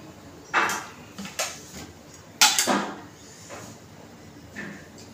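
Metal pan and utensils clink on a gas stove as oil goes into the pan while aloo bhindi is being cooked. Several sharp, close knocks come in short bursts, with quiet pauses between them.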